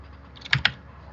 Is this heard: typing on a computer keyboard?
yes